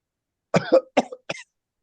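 Three quick coughs in a row, close and dry, in an otherwise silent moment.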